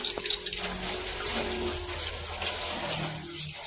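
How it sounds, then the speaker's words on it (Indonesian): Tap water runs steadily over hands being washed with soap, a continuous close splashing hiss with no talk. "Lakukan cuci tangan dengan menggunakan sabun dan air mengalir."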